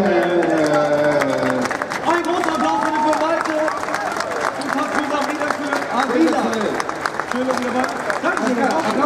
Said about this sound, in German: Ja, Applaus für euch!